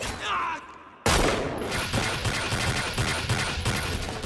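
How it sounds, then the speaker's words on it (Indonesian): Dense gunfire in a film shootout from High & Low: a sudden loud eruption of rapid overlapping shots and bursts after a brief quieter moment, sustained and close. "Baku tembak pun tak terhindarkan lagi"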